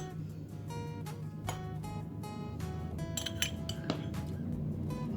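Vinegar being added to a glass in a simple acid-base experiment, with repeated light glassy clinks and chinks of utensils against glass over a steady faint background hum, no talking.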